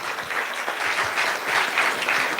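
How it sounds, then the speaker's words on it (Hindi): An audience at a Shivratri festival spiritual talk show in Vadodara applauds, with many hands clapping in a thick, continuous burst that holds an even loudness from start to finish. "ताली बजाओ अपने लिए।"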